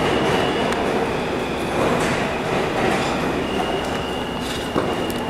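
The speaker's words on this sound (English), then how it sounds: "This is one of the longest escalators in New York City." A long escalator in a New York City subway station runs with a steady, dense mechanical rumble and faint rattling, continuous and close, with no clear talk over it.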